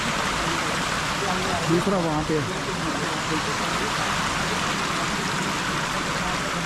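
Water churns steadily through a sedimentation tank at a water treatment plant, a constant broad rushing that fills the whole stretch while someone talks over it.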